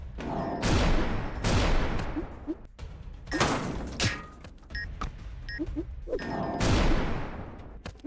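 Bombs explode in the video game ScrapGarden, a series of loud whooshing blasts separated by pauses and mixed with short metallic game effects.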